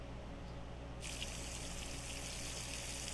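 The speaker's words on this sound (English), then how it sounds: "let's go and fill up the jerry can with some diesel" Diesel pours into a jerry can in The Long Drive video game, a steady, close hiss of liquid that starts suddenly after a second of low background hum and runs on evenly to the end.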